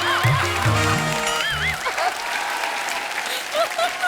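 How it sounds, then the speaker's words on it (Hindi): A studio audience at a comedy show claps in a steady wash that fills the background, while a voice speaks and laughs over the start. "मेरे लिए ताली मत बजाओ बिड़ो"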